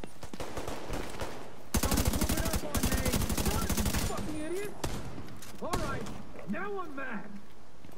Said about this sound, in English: there's a lot of gunfire going on.